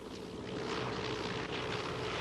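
A B-17 bomber, a vintage four-engine propeller aircraft, drones steadily overhead in flight, a faint, broad, continuous engine roar with no break.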